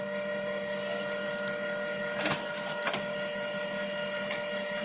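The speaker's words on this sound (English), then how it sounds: "Right, let's print that." An office printer runs steadily on an order, a continuous mechanical hum with a couple of brief louder clicks partway through.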